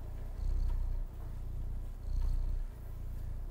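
A cat purrs in the video game Stray, a close, low rumbling purr that swells and eases in slow rhythmic breaths, with no talking over it.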